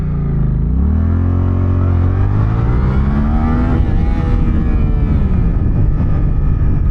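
Sport motorcycle, a Suzuki GSX-8R or Honda CBR650R, accelerating hard through first gear, its engine note climbing steadily in pitch with a deep, bassy tone, loud and close with no one speaking.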